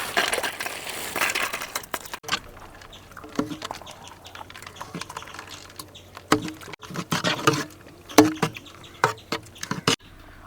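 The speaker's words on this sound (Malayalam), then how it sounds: "ആവശ്യത്തിന് നമുക്ക് ഐസ് ക്യൂബ് ഇട്ട് കൊടുക്കാം തണുപ്പിന് വേണ്ടി" Several sharp clinks and crackles as ice cubes drop into a glass of sherbet, irregular knocks close by over a quiet background.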